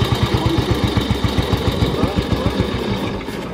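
A BSA motorcycle single-cylinder engine idles after being kick-started, a steady rapid thumping beat close by, holding even throughout with no talking over it.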